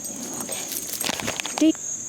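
A dog nearby gives a short yip or whimper near the end, against household background noise while a person talks.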